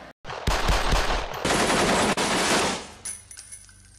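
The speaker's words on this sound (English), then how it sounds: "I'm really excited to shoot my brand new H&K" Shots from a nickel-finish H&K P7 pistol crack out loud and close, a rapid burst of sharp reports that ring out and then die away into quiet.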